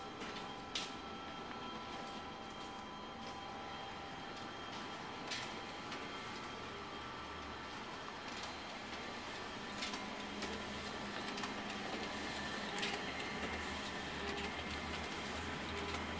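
A rebuilt Xerox DocuColor 7000AP production printer runs prints at speed, giving a steady mechanical whir and hum with repeated faint clicks and clacks from paper handling, continuous and fairly quiet with no talk.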